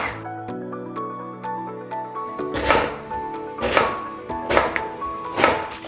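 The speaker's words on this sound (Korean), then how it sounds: "사과도 더덕과 같은 길이와 굵기대로 썰어주시면 됩니다" Knife cutting apple into strips on a board in a cooking class, after a quiet stretch a series of four or five sharp, evenly spaced chops rings out close and clear.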